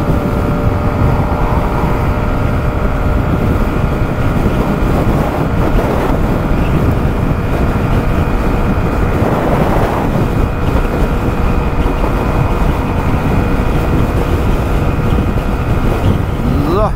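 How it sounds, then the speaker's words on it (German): A 2024 Kymco Skytown 125 scooter runs at full throttle up a slight incline, its steady engine drone nearly buried under loud, constant wind buffeting the microphone. "Jetzt habe ich Vollgas hier, ganz leichte Steigung und heute mal wieder sehr windig."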